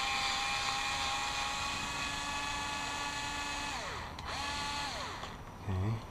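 A small power driver whines steadily while unscrewing the shock screw on a D815 RC buggy's front differential, then winds down and restarts in short pitch-sliding bursts, close and continuous.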